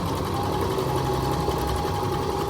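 A repaired Viking Emerald 118 sewing machine runs steadily and continuously at close range, a dense mechanical whir with a constant hum and no pauses, with no talk over it.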